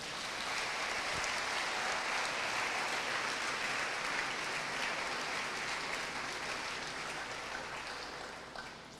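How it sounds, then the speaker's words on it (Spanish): A church congregation bursts into sustained applause, a dense wash of clapping that fills the space steadily for about nine seconds before easing slightly at the end. "Denle un aplauso al Señor."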